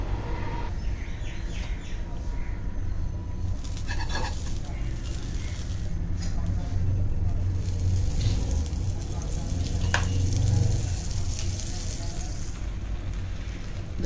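An avocado sandwich with cheese toasting in a pan, a steady soft sizzle and frying hiss throughout with occasional stirring or pressing sounds.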